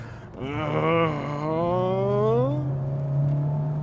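A deep, throaty car exhaust drone with a rising, revving tone, steady and fairly close, with no talking.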